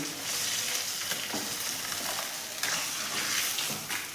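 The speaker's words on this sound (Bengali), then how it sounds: "বাকি মাছগুলো ভেজে নেবো" Fish sizzles and crackles steadily in hot oil, with a few sharper pops throughout and no talking.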